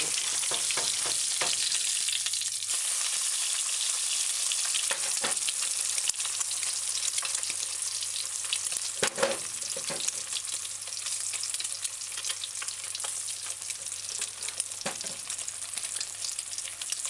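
Ham and egg fry in oil in a pan, with a continuous close bright sizzle and crackle throughout and occasional soft knocks of a utensil, and no talking.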